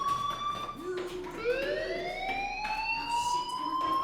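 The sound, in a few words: fire alarm ringing in Life is Strange video game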